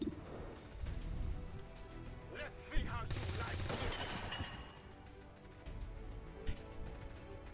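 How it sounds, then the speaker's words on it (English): Video game gunfire from XCOM Long War 2 fires as several sharp shots and bursts mixed into game sound effects and background music, loud at first and fading to a quieter scene. "we're gonna shoot this dude."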